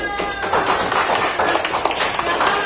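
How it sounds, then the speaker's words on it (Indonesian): Dense applause fills a primary school classroom, with many hands clapping quickly and steadily throughout and a faint voice underneath. "Betul, tepuk tangan."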